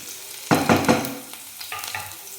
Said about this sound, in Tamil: கடுகு போட்டு இஞ்சி பச்சை மிளகாவும் வதக்கின்னு இருக்கு